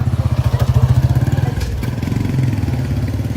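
The engine of a bodaboda motorcycle taxi runs close by with a rapid, even, pulsing putter, holding steady for the whole stretch with no voices over it.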